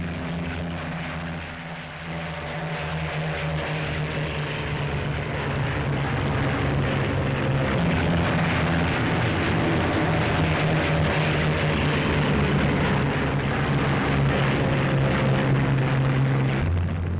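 Squadron of propeller warplanes taking off in pairs from an airfield, a loud, steady multi-engine drone with layered engine tones that swells slightly and holds throughout, no voices.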